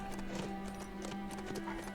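Horse hooves clip-clopping in the survival video game HumanitZ, a steady rhythm of muffled hoof falls under a constant droning hum, moderately loud and continuous with no voice.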